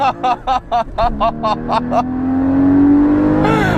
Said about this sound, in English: just listen to this exhaust